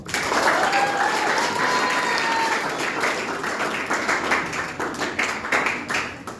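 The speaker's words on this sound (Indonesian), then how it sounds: "Tepuk tangan dong." Audience applause after the first round of a quiz competition, a burst of clapping that starts full and thins into scattered individual claps toward the end, with a voice briefly over it early on.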